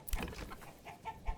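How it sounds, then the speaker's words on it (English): Chickens in the medieval city-building game Manor Lords give a few short, soft clucks, with one low bump near the start and another near the end, quiet against faint game ambience. "All the chickens."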